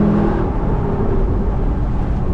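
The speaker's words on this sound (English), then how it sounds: "Full throttle." A Lexus LC 500 Convertible's V8 engine runs at full throttle in second gear, a loud, deep, continuous roar with a slowly rising pitch heard from inside the car.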